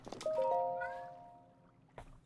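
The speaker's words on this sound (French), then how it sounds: "il y a un chat qui miaule" A cat in Zelda Breath of the Wild gives one clear, drawn-out meow up close, followed by a brief softer sound before it fades out.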